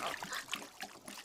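Water is poured over someone in an anime torture scene, a faint, continuous trickle and splash with no clear breaks.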